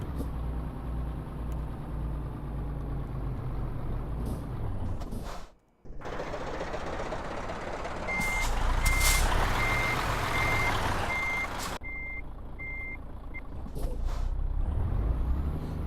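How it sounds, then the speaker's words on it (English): A truck being parked and reversed: the engine rumbles continuously, with a brief gap and bursts of air-brake hiss, while a series of evenly spaced reversing beeps repeats loudly through the middle stretch. "All right, let's park this truck up."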